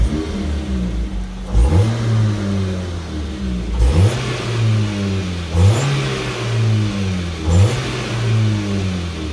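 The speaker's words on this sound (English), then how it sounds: "I'm gonna give it some revs" A Nissan Altima engine with a repaired exhaust is revved four times at evenly spaced intervals, each rev rising sharply and falling back to a steady idle, loud and close.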